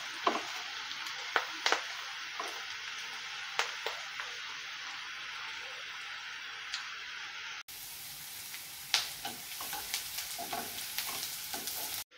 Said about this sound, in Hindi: पियाज को टिके गोल्डन ब्राउन परी भाजीबा